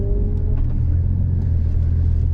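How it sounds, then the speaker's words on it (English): Nissan 350Z at an Anglesey sprint event, a loud, steady low engine rumble heard from close by, holding constant throughout with faint higher noise above it. "put another neat on the edge lap together"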